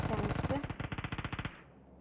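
Automatic gunfire in PUBG Mobile, a rapid burst of close, loud shots in quick rhythm that stops abruptly near the end.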